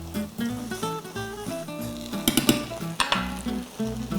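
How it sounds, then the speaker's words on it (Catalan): Chopped vegetables for trinxat sizzling in a frying pan and being stirred and mashed with a fork, steady frying hiss with sharp scraping clinks against the pan, close and loud, no talking. "anem passant tota la verdura sense escórrer-la cap a la paella"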